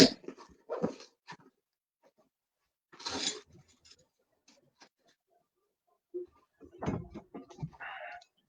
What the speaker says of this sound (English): you can hear the dog really barking down the road